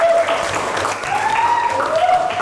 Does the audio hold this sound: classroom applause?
yes